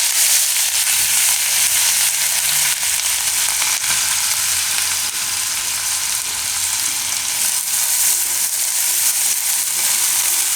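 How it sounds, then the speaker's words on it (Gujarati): Ginger, chilli, garlic and turmeric sizzle in hot oil for a Gujarati lilva parotha filling, giving a steady, close, loud frying hiss that runs unbroken with no voices. "તો એમાં આપણે આદુ, મરચાં, લસણ અને આ હળદર બધું મિક્સ નાખીશું."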